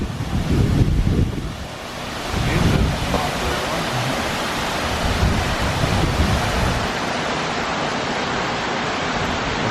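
Steady, broad rushing of a river flowing below a power plant dam that is letting out only a little water, heard outdoors on a trail, with some low gusty rumble like wind buffeting the microphone.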